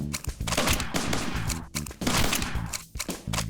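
Rapid, loud gunshots from the Point Rescue light gun arcade game, firing in dense bursts with brief pauses, layered over a busy game soundtrack.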